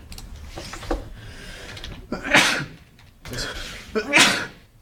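Two sharp, forceful bursts, each like a sneeze, come a couple of seconds apart, with smaller shuffling sounds before them.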